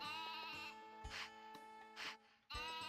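Sheep in the Twilight Princess video game bleat several times in short separate calls, clear and close, with no voices.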